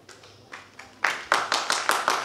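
An audience at a Hindi poetry recital applauds a poet, starting with a few scattered claps and building into steady, rhythmic clapping.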